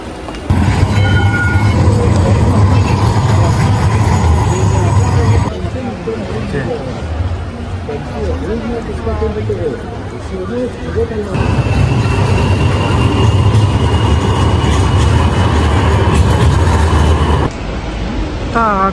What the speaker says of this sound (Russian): К моему удивлению, я обнаружила, что здесь есть метро.